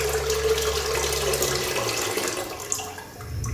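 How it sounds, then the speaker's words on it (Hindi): Steady running water pours for a few seconds from a jug into a pressure cooker, a continuous splashing stream, fairly close, with no talking. "मैंने तो 1 जग पानी का लिया है जी, वो कुकर में मैं डाल रहा हूँ"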